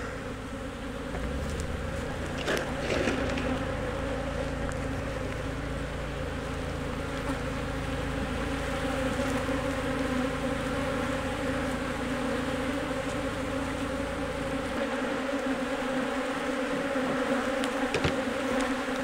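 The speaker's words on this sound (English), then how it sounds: "Looks like most of the bees are up in the top." Honeybees buzzing in a hive, a dense, continuous droning hum close by, steady in level with occasional faint knocks.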